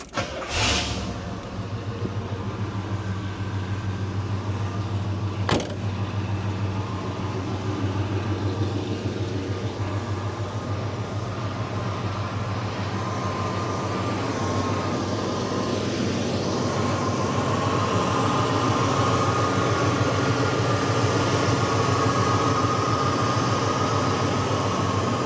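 A classic car engine cranks and catches with a sharp burst, then settles into a steady, loud, even idle that keeps rumbling without a break.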